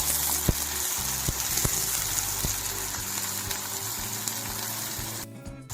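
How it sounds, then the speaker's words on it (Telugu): Finely chopped onion fries in a couple of spoons of oil in a pan, a constant crackling sizzle with occasional sharp stirring clicks, close and without speech. "ఒక్క ఉల్లిపాయ చిన్న ముక్కలుగా కట్ చేసుకుని వేయించుకుందాం"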